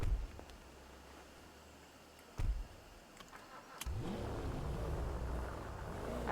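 A video game car engine starts and idles, then revs up to a steady roar after a couple of sharp knocks, fairly quiet and with no talking.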